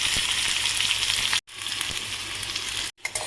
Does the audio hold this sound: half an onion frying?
yes